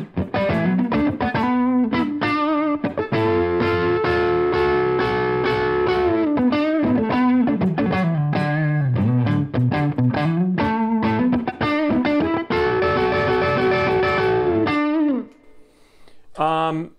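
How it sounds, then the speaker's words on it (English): Electric guitar through a Deluxe Reverb amp emulation with a Soul Food overdrive pedal in front, played as driven chords and riffs with sustained ringing notes, loud and continuous before a brief pause and a final strum. "Deluxe reverb emulation using the soul food in front of it."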